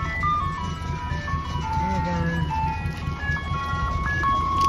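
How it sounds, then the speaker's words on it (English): An ice cream truck passes by outdoors, its jingle tune playing steadily over low road rumble for several seconds, fairly close and continuous throughout. "there goes the ice cream truck"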